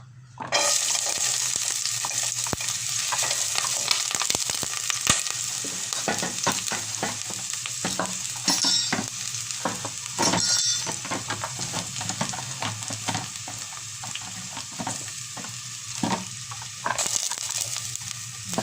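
Steady crackling sizzle of onion and garlic frying in oil, continuous and close, with occasional sharper pops and spoon scrapes.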